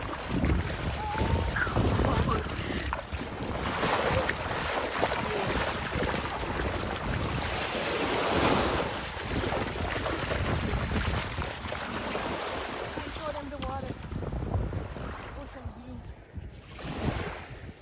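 Ocean waves break and wash along a beach in a loud, continuous rush mixed with heavy wind noise on the microphone, with voices faintly audible here and there.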